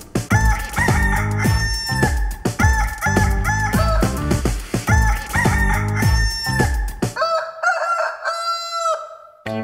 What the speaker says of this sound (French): il ferait cocorico dans le petit matin